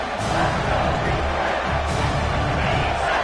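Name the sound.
football stadium crowd cheering for defense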